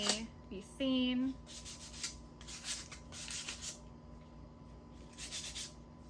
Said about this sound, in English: So I'm just filing off the edges.